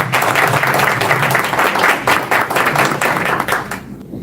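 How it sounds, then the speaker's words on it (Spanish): Loud, dense audience applause at a philosophy lecture welcoming the speaker, a steady wash of many clapping hands that holds strong for nearly four seconds, then cuts off abruptly. "Fuerte el aplauso."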